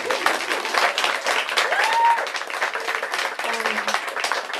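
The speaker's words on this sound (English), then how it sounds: "Round of applause." Audience applause at a Vietnamese American literature event, a continuous round of clapping from the room, moderately loud, with faint speech mixed in.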